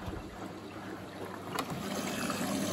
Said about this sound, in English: And so it's throwing that water down the door